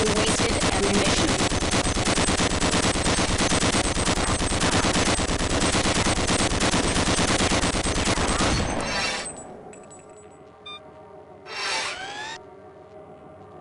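Sustained rapid automatic fire from a weapon in a training video game, continuous and loud until it cuts off from overheating, followed by quieter mechanical clicks and a brief whir.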